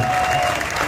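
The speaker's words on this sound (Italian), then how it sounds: "un grossissimo applauso a Manuel, da Signoressa, vuoi!" An audience claps loudly at an outdoor burping contest at a local festival, a brief burst of dense applause with a faint tone ringing underneath.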